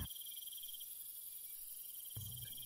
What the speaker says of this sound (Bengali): ঝিঝি ডাকছে